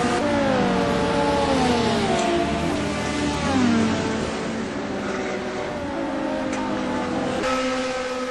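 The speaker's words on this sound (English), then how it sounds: "BMW is one of the fastest cars in a straight line" BMW race car circulating a track during a GRC Trophy race, a loud continuous engine drone with shifting revs and gear changes, sustained throughout without talk.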